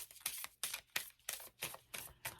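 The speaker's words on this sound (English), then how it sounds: "let's just do a quick shuffle and a cut." A tarot deck is shuffled and cut in a quick run of about seven crisp, papery riffles at a steady rhythm, close and fairly quiet, with no voices.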